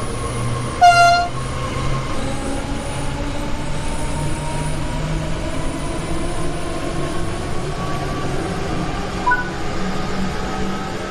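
A DB BR 422 electric multiple unit in Train Sim World 3 on the Rhein-Ruhr Osten route runs under power with a steady rolling rumble and rising motor whine, opening with a short horn toot.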